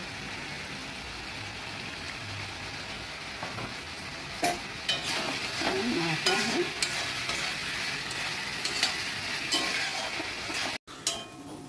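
A potato curry cooks in fish oil with onion, cumin, chilli and turmeric powders, giving a steady close sizzle and fry under intermittent scraping stirs of a utensil against the pan, with a brief dropout near the end.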